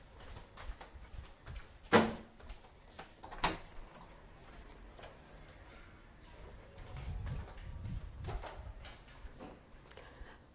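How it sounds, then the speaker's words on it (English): A household door being opened, with a sharp knock or latch clack followed by another thud a second later, then a low rumbling shuffle of movement in a quiet room. "My son is at the door and I have to open it."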